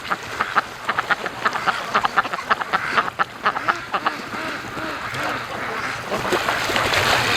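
Free-range ducks on a lake quack in a rapid run of calls, fairly close and clear, then fade into softer outdoor ambience and scattered activity.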